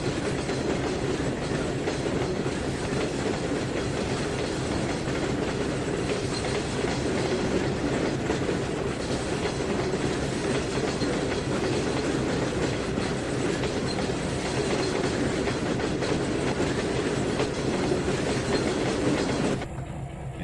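A train rolls past steadily in the Trainz 2019 railroad simulator, a continuous rumble with rhythmic clickety-clack of wheels on rail joints, loud and sustained before cutting off abruptly at the end.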